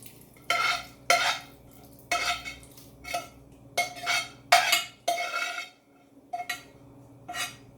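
A spoon stirring a celery, vegetable broth, thyme and rosemary mixture into turkey stuffing with coconut milk, giving a series of close, wet scraping strokes against a bowl in an irregular rhythm.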